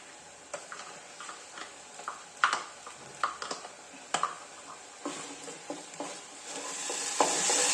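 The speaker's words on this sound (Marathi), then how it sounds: "वाटण छान परतून एक तीन चार मिनिटं वाटण छान परतून घ्यायचंय" Ground masala paste sautés with onions in a pan for mutton soup, with soft sizzling beneath repeated spatula scrapes and taps. The hiss grows louder toward the end.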